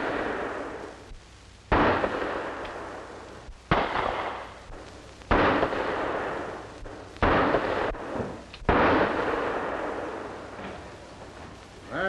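Pistol shots fired one at a time at a police target range, five sharp loud reports spaced about one to two seconds apart, each with a short echoing decay and no talking.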